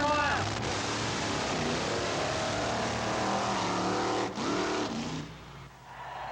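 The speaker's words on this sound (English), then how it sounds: "The little wind-up motor in the back, really cranking it out to get this pickup truck down the quarter mile" A supercharged, fuel-injected big block Chevrolet pickup truck roars down a drag strip quarter mile, its loud, sustained engine howl shifting pitch before fading at the end.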